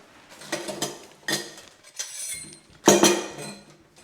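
Metal parts of a sausage stuffer clink and clatter as its nozzle is swapped for a smaller one, four separate bursts of metallic knocks and scrapes close by, with quiet gaps between, no talking.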